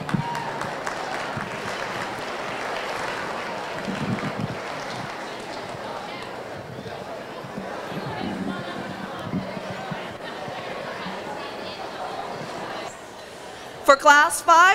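A crowd in a youth fair steer show arena applauds, a sustained patter of clapping at moderate distance that holds steady for several seconds, ending in a short burst of louder, sharper sounds.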